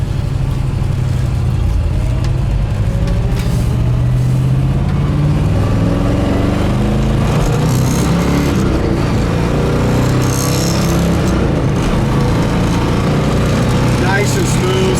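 A 1967 Chevrolet Impala SS cruising at 60 mph, its engine a steady low drone with road and wind noise filling the cabin throughout, while people talk over it.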